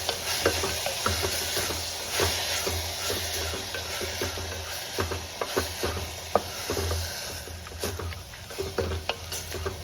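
Sprouted horse gram sizzles in oil with onions in a village-style kitchen, stirred with a spoon that scrapes and clatters against the pan in irregular strokes over a steady frying hiss, close and fairly loud, no talking.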